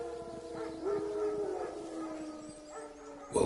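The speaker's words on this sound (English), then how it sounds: "Wild dogs. Yes. More dangerous than wolves." Wild dogs in The Witcher 3 give a long, wavering howl at mid distance that holds and falls over a steady ambient bed, with no talk, before a louder sound cuts in at the end.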